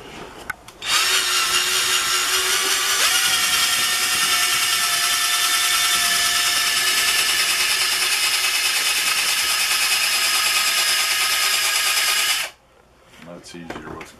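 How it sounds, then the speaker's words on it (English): A power drill driving a countersink bit into a pedestal tray made from thrift-store finds whines steadily and loudly for about twelve seconds, close by, then stops abruptly, leaving faint room noise and handling sounds. "That's easier with the countersink."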